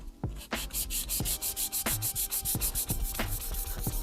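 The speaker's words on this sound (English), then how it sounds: "I'm gonna go a little bit more with the 600 grit." Hand sanding a slightly tarnished, recessed pin on an old knife with 600 grit sandpaper: close, rhythmic back-and-forth rubbing strokes, about three per second, with faint taps at stroke reversals.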